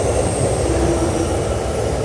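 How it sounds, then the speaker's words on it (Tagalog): Steady loud rumbling roar of a train passing on an overhead track at Ameyoko, Ueno, Tokyo, a continuous heavy drone with a faint high squeal riding on top. "Ang ingay ng tren. May tren kasi dyan sa taas oh."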